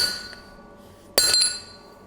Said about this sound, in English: with each blow, rotate the snap so that you start forming a nice even